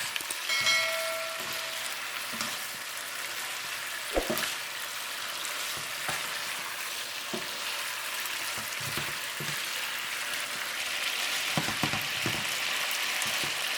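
Chicken wings with oyster sauce fry over fairly high heat in a Chinese BBQ wing recipe, giving a steady sizzle punctuated by occasional clicks and scrapes of stirring.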